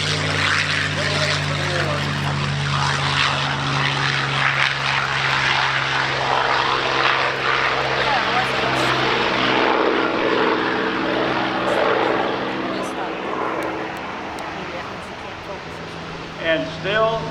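A P-51D Mustang propeller fighter drones overhead at the Oshkosh 2019 airshow, a loud, continuous engine roar that slowly fades toward the end. Music and a voice run beneath it.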